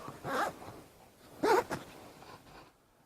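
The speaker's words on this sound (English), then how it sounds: "Here are the two zippers for the integrated bug net." The zipper on the integrated bug net of a Hennessy hammock makes two short, rasping pulls close by. A fainter brief zip follows, with quiet between the pulls.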